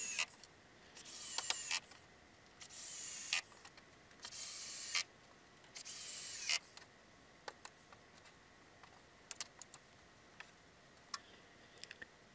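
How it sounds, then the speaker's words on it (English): Screws are driven into a wooden boot rack in several short bursts of driver whir, followed by scattered small ticks and clicks. The sound is quiet and close. "putting in 6 screws just to hold it fast"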